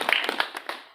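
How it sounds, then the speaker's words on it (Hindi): A few people clap at a political meeting of the Samajwadi Party, giving sparse, uneven claps close by that fade quickly within a second. "मैं चाहूंगा ऐसे नौजवान के लिए जोरदार तालियां"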